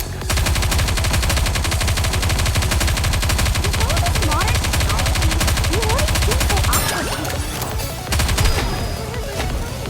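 Rapid automatic gunfire from the PC game NIKKE: Goddess of Victory, a loud, dense stream of shots with game voices layered over it, easing briefly near the end before resuming.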